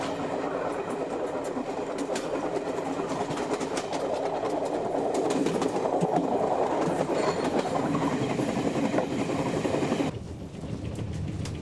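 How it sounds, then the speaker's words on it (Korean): A Gyeongjeon Line train runs along the rails with a steady rumbling roll and rhythmic clicking of wheels over track joints, heard from on board, unbroken and fairly loud for the whole stretch before easing slightly near the end. "내친 김에 경전선 열차를 타고 벌교로 가기로 했다."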